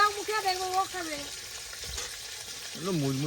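Rui fish fries in a pan with a soft, steady sizzle, partly beneath a voice that speaks and hums over the hiss.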